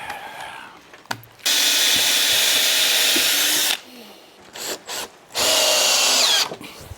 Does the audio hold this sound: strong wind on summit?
no